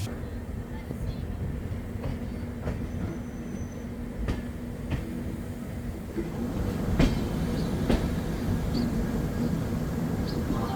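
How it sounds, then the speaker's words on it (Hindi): Indian Railways Garib Rath train arriving at Delhi Cantt station, heard as a steady loud rumble of wagons rolling over the rails with faint wheel squeal, scattered clicks and clanks, and a low hum throughout. "तो अपनी ट्रेन दिल्ली कैंट पहुंची 9:14 पे"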